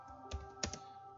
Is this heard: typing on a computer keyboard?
yes